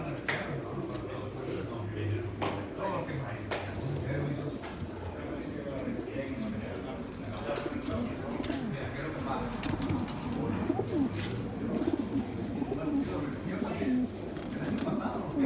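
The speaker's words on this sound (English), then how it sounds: "Lots of birds." Many racing pigeons in crates coo softly and continuously at a pigeon race. The crowded birds are moderately close, and there is scattered background talk.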